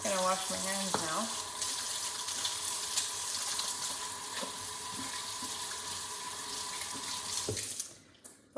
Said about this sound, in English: I'm just gonna wash my hands now.